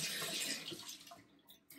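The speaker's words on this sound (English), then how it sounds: "I'm gonna wash my hands" Tap water runs over hands at a bathroom sink, a close hissing splash that fades and breaks into small splashes and drips.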